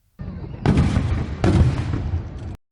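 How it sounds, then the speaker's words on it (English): Illegal fireworks go off in two loud, close bursts, each followed by crackling and rumbling that trails away before an abrupt cut. "Fears ignited over the use of illegal fireworks."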